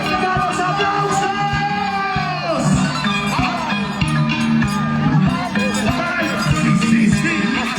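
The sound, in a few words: audience applause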